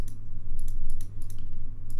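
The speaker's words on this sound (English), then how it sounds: "press F on the keyboard" Keys being pressed on a computer keyboard during video editing work, a few scattered clicks heard close up over a steady low hum.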